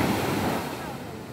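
Sea waves wash in close and loud, a broad hissing roar of surf that eases slightly as it goes, with no voices.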